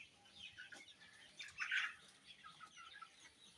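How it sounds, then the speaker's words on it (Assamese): A flock of about 300 two-month-old Sonali chickens on a farm, scattered soft clucks and chirps, a louder burst in the middle, fairly near and quiet with no talk. "এতিয়া মই মোৰ কামত সোণালী মুৰ্গী উঠাইছোঁ"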